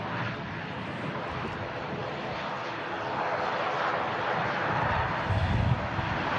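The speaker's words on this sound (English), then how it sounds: "Aer Lingus ATR arrived in from Dublin." An Aer Lingus ATR turboprop arrives from Dublin at Manchester Airport, a steady broadband engine and propeller roar with wind, growing slightly louder toward the end, with no voices.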